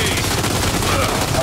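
Loud, dense gunfire from the video game Gears 5, a sustained rapid burst packed against game sound with no clear gaps.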